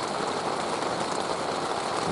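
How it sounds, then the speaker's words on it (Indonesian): Steady rain pattering on a camping tent during solo mountain camping, a dense continuous hiss at close range with no breaks and no talking. "Ini sudah mulai hujan lagi, gerimis sepertinya akan deras"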